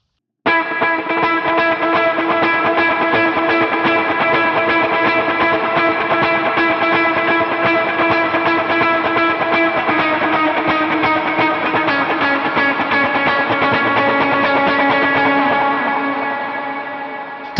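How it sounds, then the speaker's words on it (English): A sustained electric guitar lead, heavily distorted with a shimmering chorus and echo, playing continuously and loudly before fading at the end. "So that part with all the effects will sound like this."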